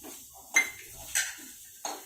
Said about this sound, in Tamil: இதுலேயே நான் தேங்காயை சேர்த்து ஒரு பிரட்டிக்கிறேன்.